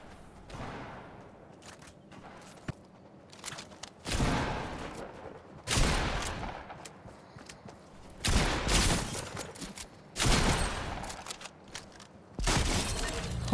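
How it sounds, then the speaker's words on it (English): Shotgun blasts from the video game Fortnite, five or six loud booming shots spaced a couple of seconds apart, each with a sharp crack and a lingering tail amid game sounds. "Exchanging shots with the Shotty, bro."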